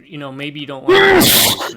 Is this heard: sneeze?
yes